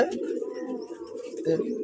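Pigeons cooing in a Bengali breeding loft with newly paired birds, soft repeated throaty coos close by, mixed under someone talking.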